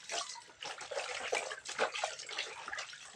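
Tap water splashing while food is washed under it, a close, soft, continuous wet gushing with uneven surges and no talk.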